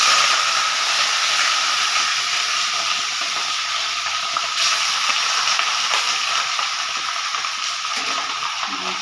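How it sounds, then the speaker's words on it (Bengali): Mutton pieces fry in a pan with garlic, giving a steady, loud, broadband sizzle and hiss that runs unbroken throughout, with no voices. "এখন মাংসটা একবার ফ্রাই করে নিয়ে তারপর আলু পেঁয়াজটা ছেড়ে দেবো।"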